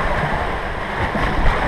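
A continuous, loud rush of water surging and splashing as a wave breaks over a rapids ride raft, with heavy wind noise buffeting close to the microphone.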